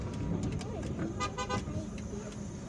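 Road traffic in Algiers on the drive from Ain Malha toward the Algiers Fair, a steady wash of cars and engines with short horn toots cutting through, and a voice talking over it.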